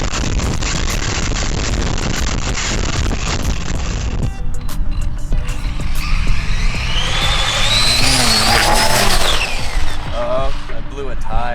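A fast RC car races with a harsh, buzzing motor whine that climbs and sweeps in pitch before breaking into rougher rattling, loud and close throughout.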